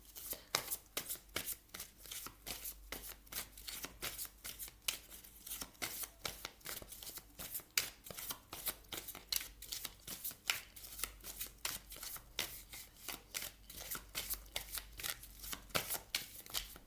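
Tarot oracle cards being shuffled close by: quick, crisp riffling slaps follow one another in a continuous, uneven rhythm, fairly quiet, with no talking over them.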